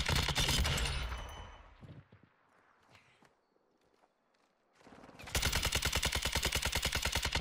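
Rapid automatic gunfire in Warzone 2, a loud dense burst at the start, then quieter scattered shots and footsteps, then another long loud rattling volley of evenly spaced rounds at the end.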